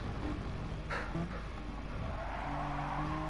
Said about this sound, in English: Sliding the car through turn 1.